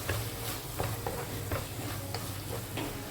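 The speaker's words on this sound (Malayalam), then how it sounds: "ഒരു 3/4 ടീസ്പൂണോളം മഞ്ഞൾപ്പൊടി നമുക്കൊന്ന് വാട്ടിയെടുക്കാം" Turmeric and chili powder being sautéed in oil in a pan for a Kerala-style fish curry: a steady low sizzle with periodic soft stirring scrapes every half second or so, close and continuous, with no talking.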